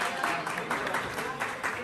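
Church congregation at a Christmas gathering applauds a brother for his gift, a soft, even wash of many hands clapping at a distance, with a voice faintly mixed in.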